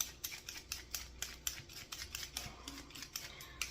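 A close-up, quiet rhythm of quick, scraping strokes from a peeler shaving skin off a potato, repeating steadily several times per second.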